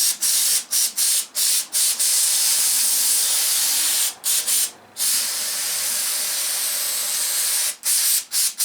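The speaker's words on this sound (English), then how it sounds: "A little bit of brake clean here. Get all this grit and grime and everything else out of there." Brake cleaner sprays from an aerosol can onto the engine valves of a John Deere 318 garden tractor, loud close hissing bursts, some short and choppy, one long steady blast, with no talking.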